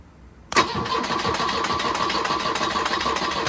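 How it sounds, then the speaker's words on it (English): A Volvo 242 engine, abandoned in the woods and running on starting fluid, cranks and then catches with a loud burst, settling into a steady, close, rough mid-pitched run with no talk over it. "Okay, so she's cranking. We got starting fluid"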